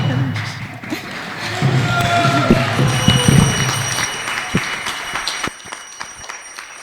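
An award ceremony audience claps and stirs, with a loud burst of applause and thumps in the middle that gradually fades to scattered claps, mixed with crowd noise.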